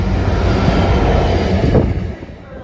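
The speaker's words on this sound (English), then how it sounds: "another freight train's passing through" Freight train hauled by a class 66 diesel on a main line rolls past close by, a steady broadband rumble and rattle of wagons that fades slightly near the end.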